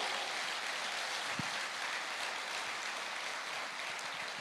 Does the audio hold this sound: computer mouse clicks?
no